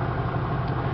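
Cadillac Eldorado Touring Coupe with its Northstar engine idling, a steady low, even hum recorded close with no voices.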